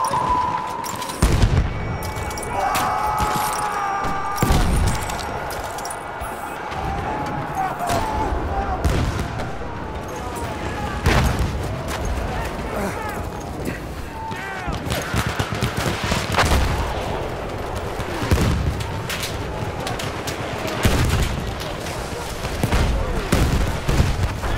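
Bursts of machine-gun fire and scattered gunshots crackle through a Battlefield 1 battle in the Argonne Forest, sharp rapid volleys mixed with distant booms and busy battlefield noise throughout.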